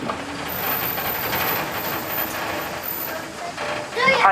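Open tram rolling through Old World Wisconsin, a steady loud rumble of wheels and engine with wind noise and faint rattling, ending in a brief tonal squeal or voice-like sound.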